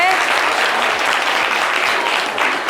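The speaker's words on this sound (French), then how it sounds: "Applaudissez-la bien fort" An audience at a live show applauds loudly, a dense, sustained burst of clapping that fills the whole moment without letting up.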